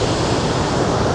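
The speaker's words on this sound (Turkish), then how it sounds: "Ama büyük oranda şelalenin sesini duyuyorsunuz." A waterfall in Africa, likely Zimbabwe, roars as a loud, constant wash of rushing water, close and unbroken with no voices.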